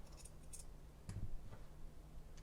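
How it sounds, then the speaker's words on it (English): Scissors snip through the fabric seam allowance at the underarm seam of a sewn tie jacket, giving a few short, close, crisp cuts, with one firmer snip in the middle, heard alone against quiet room tone. "I can clip out this seam allowance at the underarm seam to get rid of some of that bulk"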